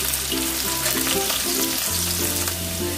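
Bitter gourd pieces frying in hot oil make a dense, steady sizzle and crackle up close, with a few stirring movements, no talking, and low steady tones underneath.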